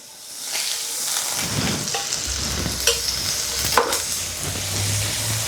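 About a tablespoon of butter sizzles and crackles steadily in a very hot frying pan, a continuous close frying hiss broken by a few sharper spits and pops.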